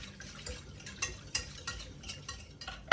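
Spoon stirring brioche dough of warm milk in a bowl, a run of soft scraping strokes with small clinks and knocks against the bowl, quiet and close.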